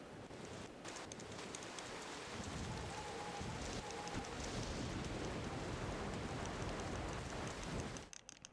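Stormy weather in the racing game Wave Race: Blue Storm: steady, dense rain pouring on surfaces with a low thunder rumble underneath, continuous and loud for most of the stretch before cutting off near the end.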